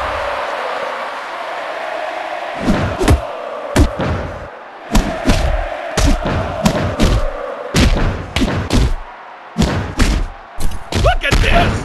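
Kicks land in the wrestling video game WWE Mayhem, a rapid series of sharp, loud thuds in uneven bursts over a steady hum of arena crowd noise, with gaps between the flurries.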